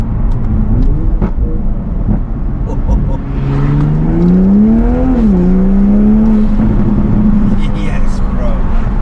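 Tuned 420 bhp Toyota Supra with a Stage 1 tune revs during a drive, engine tone climbing and falling steadily and loud up close, with people talking over it inside the car.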